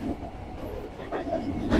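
A passenger train moving at about 75-80 km/h, a continuous low rumble and rattle heard from inside the carriage with faint clatter, steady and loud throughout.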